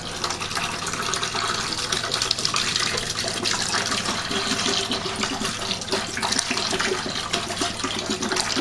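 Lemon juice pours steadily into a batch of blueberry wine must during primary fermentation, a continuous close liquid splash and gush running for about eight seconds with no talk.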